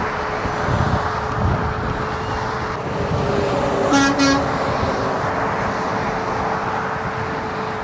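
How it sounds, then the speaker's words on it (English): A car horn gives two short beeps in the middle of rush-hour road traffic, sounding over a steady rumble of passing vehicles and engine noise, with no one talking. "I think that was a beep of approval."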